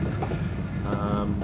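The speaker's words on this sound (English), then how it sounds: "I think my train is coming back. Oh, I think I hear it!" A train rumbles in close in the Half-Life video game, a steady loud mechanical roar with rattling and a faint rising squeal, heard on its own.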